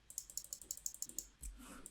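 Computer mouse clicks while Control-Alt-Shift is held, a steady run of about a dozen light, evenly spaced clicks up close, followed by a soft low thump.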